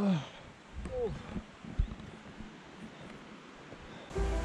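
Streams and small waterfalls in the Noirvaux gorge of Switzerland's Val-de-Travers, heard on a trail run: steady, broad rushing water mixed with wind noise and occasional light knocks, continuous throughout.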